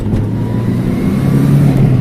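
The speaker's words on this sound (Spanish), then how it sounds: "Pero si bajas una marcha y pasas el acelerador a fondo," Renault 21 Turbo engine under full throttle after a downshift: a loud, steady, close engine drone with a rising tone, heard alone without talk.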